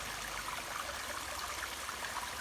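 A waterfall in a coconut plantation in Pattani rushes with a steady, broad hiss of falling water, loud and continuous with no voices over it.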